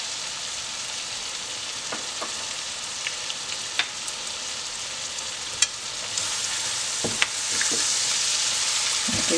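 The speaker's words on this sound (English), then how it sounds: "give that a good stir" A seasoned stuffing mixture of garlic powder, onion powder and cayenne sizzles steadily in a pan while a utensil stirs it, with scattered soft scrapes and taps against the pan, close and continuous with no voices.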